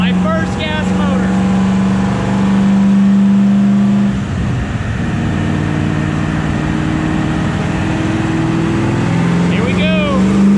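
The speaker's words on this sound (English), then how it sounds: "My first gas motor." A gas motor running and revving, a loud steady engine hum whose pitch rises and falls as it is throttled up, with a person talking over it at the start and end.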